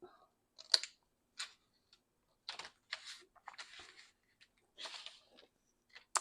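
Scissors trimming paper scraps for an art journal piece, a series of short, crisp snips close up, spaced irregularly with quiet gaps between cuts.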